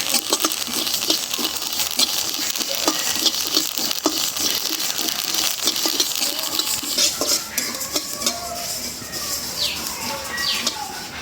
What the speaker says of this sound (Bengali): কি সুন্দর কালো জিরা ফুটতেছে একদম মুড়ির মতো